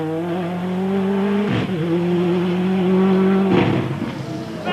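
A 1997 Irish Tarmac Rally Championship car that is down on power, its engine roaring loud and close at a steady pitch, with brief dips near 1.5 and 3.5 seconds as it shifts or lifts.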